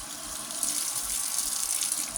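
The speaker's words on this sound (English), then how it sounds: "now I'm gonna run the hot water" Hot water pours steadily from a tap into a sink during a doll's bath, a constant close hiss and splash running without a break and with no voices.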